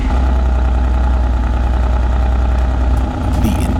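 A 2018 Mercedes-AMG GT R with a titanium exhaust rumbles at a steady, loud idle, deep and even, dipping briefly near the end before resuming.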